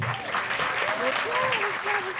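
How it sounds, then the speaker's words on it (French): Applause from a studio audience on a live French TV morning show, a steady wash of clapping that runs through the whole short stretch while a voice talks over it. "Ça s'applaudit."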